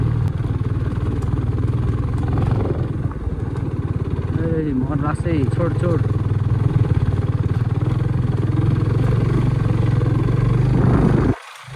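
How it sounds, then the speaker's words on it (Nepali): Motorcycle engine droning steadily throughout while ridden along a road, loud and close, with someone talking over it; the engine cuts off abruptly near the end. "यो बाइक चाहिँ यस्तो अफरोडमा भन्दा पनि बिचमा कुदाउनु चाहिँ दामी हुन्छ क्या बाइक चाहिँ"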